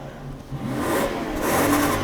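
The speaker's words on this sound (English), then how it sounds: "Got to rev it" A Toyota Century V12 engine rises from a smooth idle into a quick rev, the close, even sound building over a couple of seconds.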